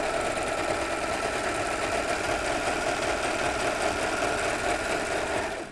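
A serger sews a slightly wider rolled hem over stabilizer, running as a loud, steady, continuous mechanical whir with a rapid stitching chatter that holds unbroken to the end.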